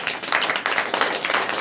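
A church congregation claps together at a Saturday prayer meeting, a dense, steady patter of many hands filling the room at close range with no voices over it.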